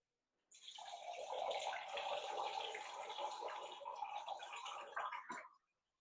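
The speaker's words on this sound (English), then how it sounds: "Putting some water." Water poured steadily into a glass holding a homemade drink of fennel seed extract, lemon juice and jaggery powder, a continuous close splashing stream lasting about five seconds that ends abruptly, with no voices.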